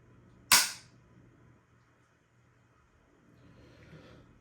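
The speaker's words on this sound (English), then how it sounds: "I do this even at gun stores with handguns or rifles, any firearm that I'm dry firing" A single sharp click from the dry-fired trigger of a Tikka rifle, crisp and close, then near silence with faint room noise.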